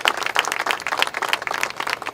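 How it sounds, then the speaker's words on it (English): An audience at a veterans event honoring a Puerto Rican monument committee claps together, a dense steady patter of many hands at moderate distance, with no talk over it. "give them a round of applause to Jaime and to Tony and the Puerto Rican Monument Committee"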